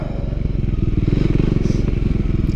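A Triumph Scrambler 400 X motorcycle ridden in low gear. The single-cylinder engine thumps loud and close with a steady, rapid rhythmic pulse and light clatter over it.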